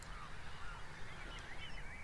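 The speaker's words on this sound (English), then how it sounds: "Quite a few of the waders are flying around now, trying to find patches of mud that are not covered in water." A flock of waders lifting off the tidal mud at Snettisham on the Norfolk coast, a steady far-off wash of calls and wingbeats over an open, breezy beach, with no talk.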